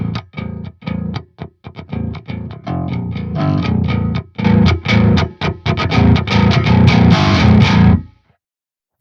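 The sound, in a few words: bass guitar distorted through an amp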